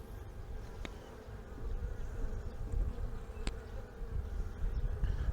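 Honeybees buzz steadily around an opened hive during a frame inspection. A continuous low drone is heard close by, with a couple of brief sharper sounds and no speech.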